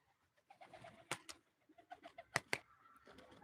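A pigeon coos softly a few times, with a couple of sharp wing flaps or clatters in between, fairly quiet overall.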